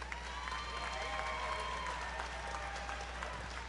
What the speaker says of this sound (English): a big round of applause for both of these fighters